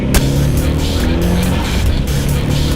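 Hard acceleration from a car during a pull, a loud steady engine roar with tire noise filling the whole stretch up close, no voices over it.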